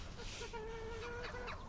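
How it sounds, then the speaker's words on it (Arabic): A hen clucks in short, soft calls on a farm over steady background noise, fairly close, with a faint voice now and then. "هاي دجاجة الكاركة"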